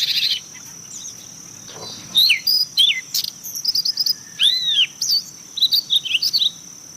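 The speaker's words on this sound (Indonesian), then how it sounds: "hammarah ini burung kecil yang biasa berkicau dan kicaunya bagus" A hammarah, a small songbird, sings a series of bright, quick chirps and whistled trills in short bursts, clear and fairly close over a steady high insect-like hiss and soft background hum.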